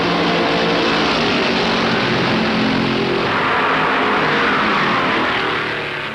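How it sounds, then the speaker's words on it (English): 1964 stock cars, a Dodge among them, race at Darlington, their engines roaring loudly and continuously as the pack drones past, the pitch swelling and shifting midway with no voices over it. "Buck Baker moves his Dodge smoothly and relentlessly"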